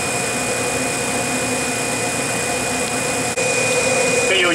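A Vacuum Atmospheres HE-243-2 glove box in its heat regeneration cycle gives a steady, loud blowing hum with a constant high whine and a brief dip near the end.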